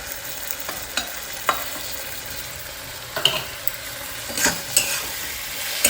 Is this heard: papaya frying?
yes